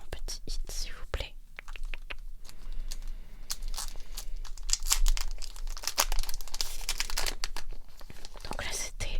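Crinkling foil wrapper of a Pokémon Paldea Evolved booster pack being torn and opened up close, with dense crackling and tearing bursts, broken by brief pauses, under soft whispering.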